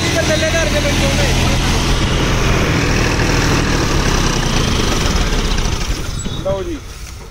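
John Deere 5050D tractor fitted with a modified high gear, pulling an 8-foot super seeder, engine droning loud and steady with a low heavy rumble, easing slightly near the end as voices talk over it.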